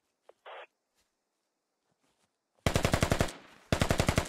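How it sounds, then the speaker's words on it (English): Rapid bursts of AK rifle fire in a tactical shooter game, a brief faint shot early, then two loud sustained automatic volleys with a short gap between them, close and alone without talk. "AK fire goes out."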